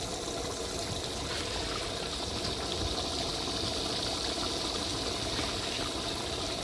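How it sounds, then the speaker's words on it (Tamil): A pot of chicken biryani masala simmers on the stove, giving a steady, even bubbling hiss that holds unchanged throughout, fairly loud and close with no voices. "சிக்கனை வந்து கொஞ்சம் கொஞ்சமாக நல்லா மசாலாலாம் நல்லா கொதிச்சுன்னு வருது"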